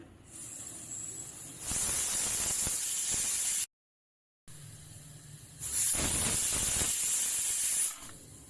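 A pressure cooker whistles twice on the stove while cooking Maharashtra-style masala bath spiced rice. Each whistle is a loud, sustained hiss of escaping steam lasting about two seconds, and a brief dropout separates the two.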